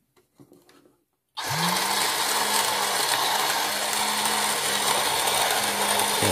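A small working model engine in a workshop starts abruptly after a brief quiet and runs continuously with a loud, buzzy mechanical whir, its spark plugs firing in a rapid steady rhythm, close up and with no talking.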